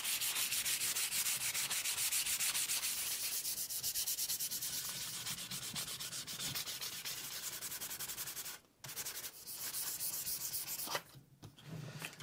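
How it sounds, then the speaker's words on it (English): A carved wooden gunstock war club is hand sanded with 220 grit sandpaper, making a steady, close, continuous rasping scrub that runs almost the whole time with a couple of short pauses near the end. No one speaks. "I'm going to go now with 220 by hand and finish it with about 500"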